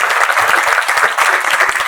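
Audience applause welcomes Costa Rican journalist and diplomat Eduardo Ulibarri at a panel event, a steady, dense wash of clapping from a seated crowd that holds evenly throughout without pause.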